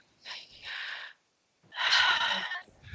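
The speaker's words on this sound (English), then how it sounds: "I want you to just take some nice deep breaths" A person takes slow, deep breaths, two long airy inhales or exhales separated by a short pause, close and soft with no talking.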